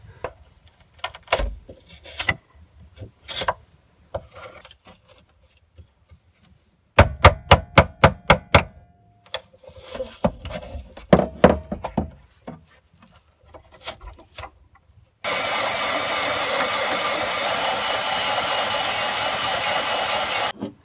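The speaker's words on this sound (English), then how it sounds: "get this wood out of the way, and then I'll cut a smaller hole in the metal underneath" A power tool cuts a hole through a wooden panel and the metal beneath it for a Chinese diesel heater's exhaust pipe. Scattered knocks and a quick burst of taps come first, then loud, steady cutting runs to the end.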